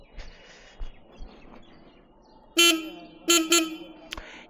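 Horn of a Hero Xtreme 160R 4V motorcycle, sounded as a few short, loud, near beeps toward the end after quieter background noise.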